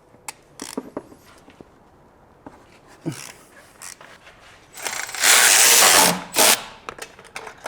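Bolts are removed with a ratchet wrench and long extensions under a BMW E46 330i: scattered sharp ratcheting clicks and knocks at close range, then a loud, dense mechanical burst lasting over a second.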